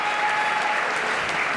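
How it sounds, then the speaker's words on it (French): Spectators at a French padel championship match applaud in a brief, dense burst of many clapping hands, steady and fairly loud. "Vous pouvez applaudir même chez vous."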